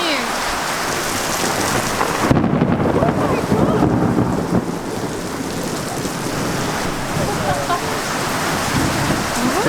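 Steady outdoor rain pours down in a dense, hissing wash, with heavier patter and gusts swelling at moments, loud and close throughout.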